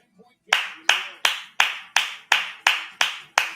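A single person claps hands in imitation of Jason Garrett's clap during a Buccaneers–Saints game reaction, a short pause then eight crisp, close, evenly timed claps.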